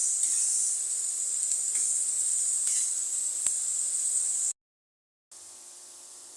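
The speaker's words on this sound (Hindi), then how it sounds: "अब हम इसमें अदरक लहसुन का पेस्ट ऐड करेंगे। दो से 3 मिनट मज़ीद भूनेंगे हम इसको।" Ginger garlic paste frying with liver on a tawa gives a steady, bright sizzle with a few faint clicks. The sound cuts out completely for under a second, then the sizzle returns.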